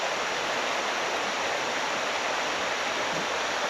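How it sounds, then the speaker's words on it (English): Strong current rushing over boulders at a swimming hole in Babinda, Australia, a steady broadband roar of water that stays loud and unbroken throughout, with no voices. "the current starts to pick up and it gets stronger and faster"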